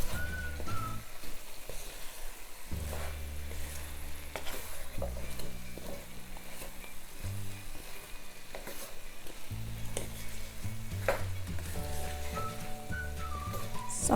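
Potatoes and eggplant for an aloo baingan curry sizzle steadily in a pan, a constant close frying hiss with occasional stirring scrapes and a faint whistling tone in the background.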